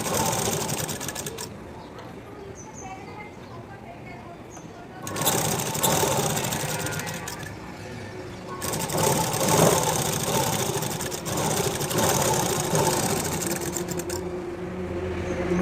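A sewing machine topstitching a blouse onto its lining runs in bursts of steady mechanical whirring, stopping briefly and restarting, close by while someone talks over it.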